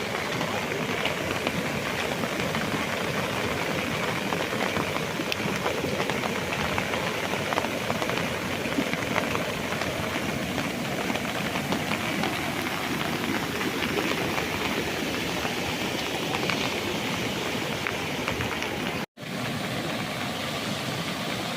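Very heavy rain pours down in Merkupathi, Tiruppur district, a dense, continuous hiss that stays loud and even for some twenty seconds, with a momentary dropout near the end.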